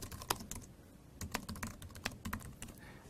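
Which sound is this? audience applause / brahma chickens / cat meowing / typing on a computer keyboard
typing on a computer keyboard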